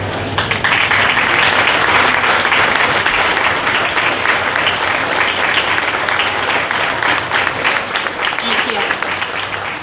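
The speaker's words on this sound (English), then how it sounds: "we'll go ahead and give our royalty a round of applause" Audience applause fills a fair coronation hall as visiting fair queens and princesses are honored, a dense, loud, steady roll of many clapping hands that runs nearly ten seconds with little let-up.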